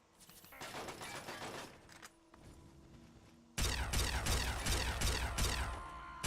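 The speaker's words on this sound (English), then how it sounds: "When I hear the Gauss rifle fire," Gauss rifle shots from Fallout 3 gameplay, with quieter mechanical clatter first, then a sudden louder stretch of sharp repeated electric cracks and bursts layered over game sounds.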